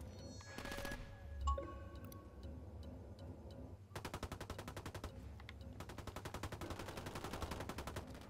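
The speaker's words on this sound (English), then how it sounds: "it was a gun turret a mile away that was shooting at us" Gun turret firing miniguns in Ghost Recon Wildlands, a far-off tower: dense rapid automatic bursts rattling in long sustained volleys, with a short lull before the fire resumes, steady and moderately loud.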